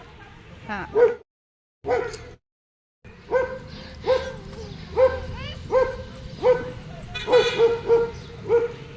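A dog barks repeatedly nearby in short, evenly spaced yips, with a brief pause early on.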